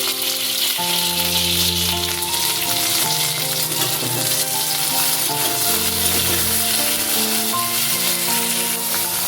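Ridge gourd strips and potato frying together in hot oil, with a loud, steady sizzle over the whole stretch and a few stirring scrapes along the way.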